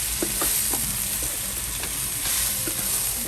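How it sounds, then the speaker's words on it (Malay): Onions sautéing for Malay red chili fried rice, a steady loud sizzle in a hot pan broken by scattered scrapes and stirs, with no voices. "we saute for a while. Make sure that the onions will get brown."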